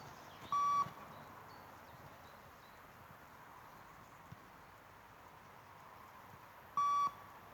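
Shuttle-run beep test timing signal during an under-17 football fitness session, two short, loud electronic beeps about six seconds apart over quiet room ambience.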